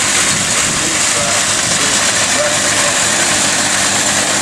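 Tractor engines run steadily at a summer tractor show in Prairie Village, Madison, South Dakota, a continuous loud mechanical drone with a broad noisy texture and no clear breaks, carrying on throughout.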